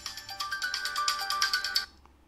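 A ringtone preview plays from a Samsung Gear S3 Frontier smartwatch: a bright, rhythmic electronic melody of repeated chiming notes for about two seconds, then it stops abruptly.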